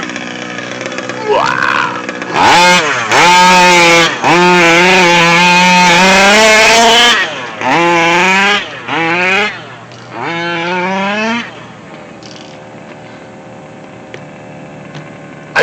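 A King Motor Baja 5B RC car with a 38cc 30DN engine and Olimat pipe revs in loud, rising two-stroke bursts, throttling up and down repeatedly before settling to an idle, with a brief exclamation from a person nearby.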